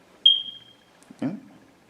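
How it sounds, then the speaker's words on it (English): A smoke detector gives one sharp, high chirp that rings out briefly, followed about a second later by a short low thump in an otherwise quiet room. "Now it's that smoke detector. That fucker's still going strong."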